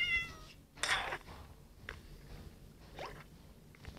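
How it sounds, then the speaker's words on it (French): A black cat meows at a witch's house in a video game, one clear meow standing out over a soft, busy background, followed by fainter later sounds. "Et voilà son chat noir."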